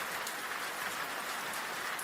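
Steady rainfall with a dense, even hiss of drops hitting surfaces, continuous and moderately loud with no voices.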